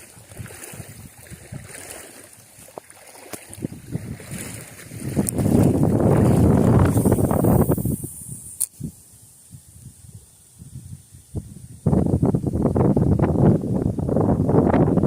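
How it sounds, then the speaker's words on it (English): Gusty wind buffets the microphone outdoors beside a river while fishing, swelling into loud roaring rushes that drop away and then return. "Wish this wind wasn't picking up all of a sudden."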